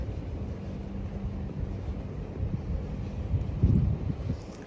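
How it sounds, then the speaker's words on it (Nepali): Wind blows outdoors, a low steady rush buffeting the microphone with a few stronger gusts toward the end. "हावा चलिरहेको छ"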